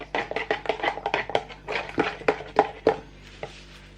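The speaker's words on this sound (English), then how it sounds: "and now you're going to stir" A teaspoon stirs a chocolate and vanilla ice pop mixture, making a quick run of close, rhythmic clinks and scrapes against the container that slow and fade toward the end, with no one talking.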